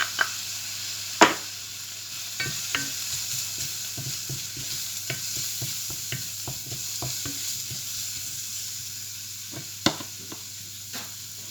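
Onion and cumin frying in a pan, a soft steady sizzle under frequent light scrapes and taps of a utensil stirring, with a couple of louder knocks, close and without talk.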